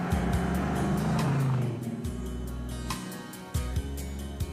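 A 1966 Dodge Charger with a Hemi V8 engine, its deep steady engine note rumbling nearby and then dipping and rising again as it revs, with no talking.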